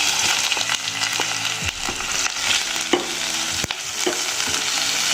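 Black pepper chicken ingredients with onion hit hot oil in a wok, giving a loud, steady sizzle and frying hiss with scattered clatter and stirring knocks throughout, no voices.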